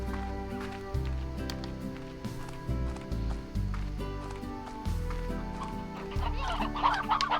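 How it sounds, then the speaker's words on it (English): Chickens cluck repeatedly in the farming game Slime Rancher, layered over a steady melodic game soundtrack, with small bursts of clucking scattered throughout at moderate volume. "Chickens."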